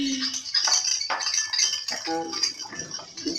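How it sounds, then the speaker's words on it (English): Glue slime being stirred and mixed in a bowl gives close, irregular clinks and scrapes of a utensil against the container, busy and uneven over a few seconds, with no talking. "Now let's try and mix it together."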